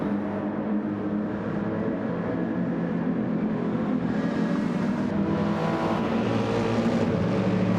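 Race cars from a racing video game, including a Toyota Supra, roar steadily together in a dense, continuous engine drone with no break or talk.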